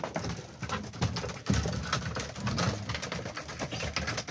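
Racing pigeons cooing softly and steadily while they drink water at a loft, low murmuring calls overlapping throughout with no talking.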